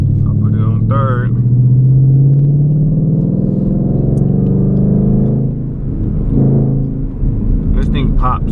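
A 2020 Ford Mustang 5.0 with a muffler delete cruises in third gear on a night drive, giving a loud, steady low engine rumble that swells briefly early on and then holds as a continuous drone from inside the cabin.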